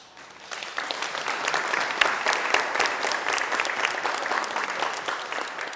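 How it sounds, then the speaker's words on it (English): An audience of food bank staff breaks into applause, a steady patter of many hands that swells in over the first half second and stays fairly even to the end. "That was my applause line, and I'm so glad that you applauded."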